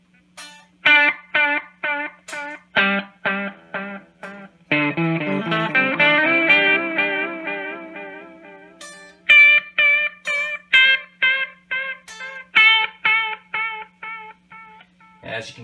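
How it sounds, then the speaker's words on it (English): A guitar delay pedal, the Toronto City Transit Delay Deluxe, runs with its kill-dry switch on: muted string plinks give way to rhythmic repeating echoes that swell into a sustained wash, then resume as evenly spaced delayed notes, loud and close. "the plinking of my guitar strings with no sound coming through the amp and then suddenly the echo"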